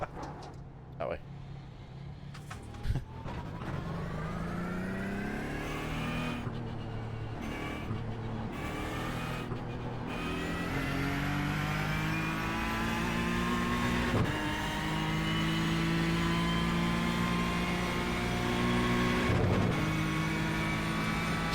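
A Ford GT engine in iRacing at Silverstone revs and climbs through gears, rising tones sweeping upward with a flat-sounding top end, loud and continuous with brief cuts between shifts, and a voice talks over it.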